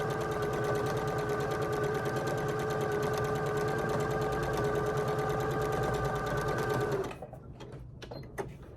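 A sewing machine stitches t-shirt quilt pieces, fast and evenly rhythmic for about seven seconds, then stops and leaves a few quiet handling clicks and rustles.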